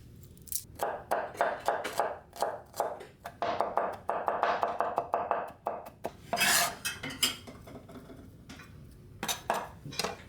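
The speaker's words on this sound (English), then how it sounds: "First, mince 6 or 7 garlic cloves into tiny pieces." Six or seven garlic cloves are minced into tiny pieces with a knife, giving quick bursts of close blade taps against a cutting board with short pauses between runs, fairly quiet and with no talk.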